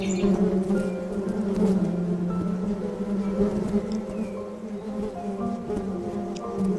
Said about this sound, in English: Look here to this bee that tries to protect its cell.